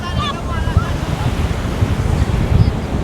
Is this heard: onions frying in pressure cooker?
no